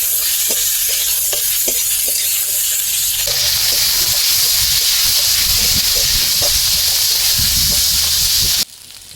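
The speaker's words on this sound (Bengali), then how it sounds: "এরপর কেটে ধুয়ে রাখা কুঁদরিগুলো দিয়ে দিলাম। কুঁদরিগুলো 2-3 মিনিট ভেজে নেব।" Ivy gourd (kundru) fries with onions in a pan, giving a loud, steady hiss and sizzle with occasional stirring knocks, close, before the sound cuts off abruptly near the end.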